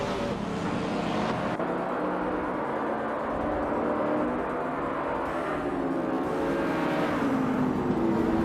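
Race cars, including a 2011 McLaren MP4-12, roar around Road America in a racing video game, a loud continuous engine drone whose pitch rises and falls through gear changes, with no voices over it.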